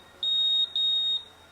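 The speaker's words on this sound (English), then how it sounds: "as it fills it up, it beeps" An automatic tire inflator gives two sustained high electronic beeps, each about half a second, with a short gap between them, clear over a quiet background.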